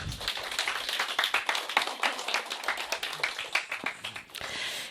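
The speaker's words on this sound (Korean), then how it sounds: "박수 한번 쳐봐" Applause from a small group at a music teacher-exam info session, many hands clapping at a moderate distance in an irregular patter that thins out near the end.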